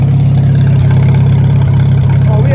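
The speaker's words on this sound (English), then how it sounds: "first idle in 19 years" A Farmall H tractor engine, run again after sitting 19 years, idles with a steady, loud, low rumbling throb close by.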